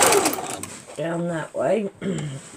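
A sewing machine stitches a maple leaf quilt block, a steady mechanical whir at the start that fades as someone talks over and after it.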